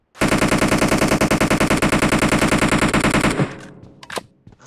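Sustained rapid automatic gunfire in the mobile battle royale game BGMI, a long loud burst of evenly spaced shots that stops abruptly, followed by a few scattered sharper reports fading out.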